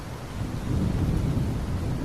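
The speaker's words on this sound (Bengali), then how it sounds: "পিছনে বৃষ্টির শব্দ" Rain falling with a low, rolling thunder rumble in a Bengali horror cartoon, a dense steady downpour wash that swells slightly as the thunder builds, with no voices.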